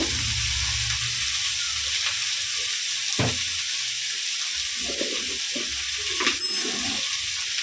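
Bethua greens sizzle and hiss steadily in a pan while being stirred, with a few scraping and clacking strokes from the spoon, close and continuous, with no voices.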